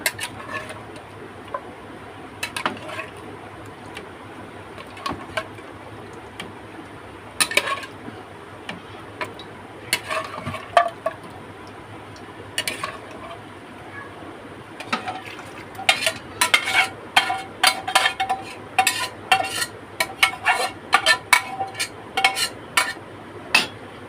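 Beef pieces go into a pan for beef thokku, bringing soft wet sizzling under a low hum and a growing run of quick clicking and tapping spatula knocks toward the end, with no talking.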